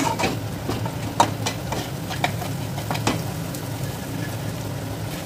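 Ground spices, including Kashmiri chilli powder and turmeric, stirred in a frying pan with a steady sizzle, a few clear scraping clicks of the spoon against the pan standing out, and no talking.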